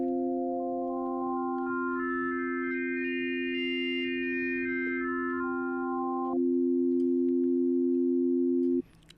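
Waldorf Quantum synthesizer holding a steady electronic tone whose upper harmonics step upward and then back down as a resonance position moves, then changes character and cuts off abruptly.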